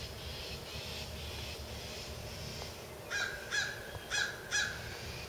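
Several crows caw in a short burst of four harsh calls near the end, over a steady low outdoor rumble, with no other voices.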